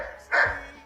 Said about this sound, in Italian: Non voglio cani con me.